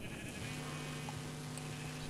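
Sheep in the Minecraft video game bleat over a steady electronic hum, a short nearby call standing out clearly with no talk over it.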